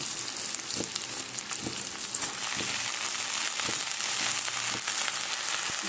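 Bottle gourd leaves hit hot oil with fried onion, green chili and black cumin, giving a steady bright sizzle with soft stirring scrapes and occasional knocks throughout.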